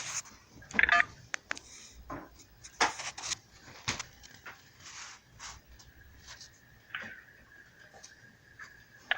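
Telephone keypad tones beep through an automated phone menu, a string of short, distinct presses followed by a sustained steady tone, with clicks and scattered fainter beeps around them.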